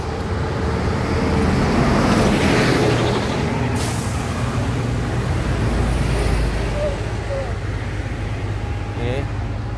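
A bus drives past in busy street traffic on the way to Jiufen, Taiwan, its loud engine roar and road noise close by, with a brief hiss like an air brake and other vehicles around.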